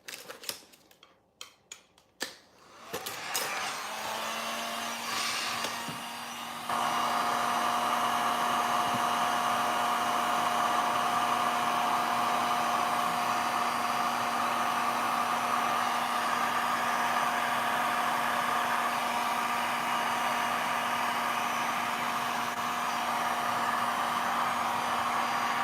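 A heat tool warming a craft piece, starting after a few brief handling knocks and then holding as a steady, even blowing hum with a faint tonal whine, heard alone and close.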